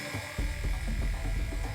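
Electric hair clippers buzz steadily at close range, a constant motor hum with slight pulsing as they move.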